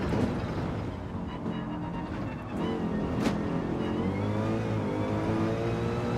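A Mercedes race car in Gran Turismo 7 revs and accelerates hard, its engine note sweeping up through the gears loudly and close, with a brief shift dip midway.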